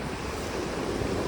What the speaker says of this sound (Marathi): लाटा वगैरे भारी भारी येतात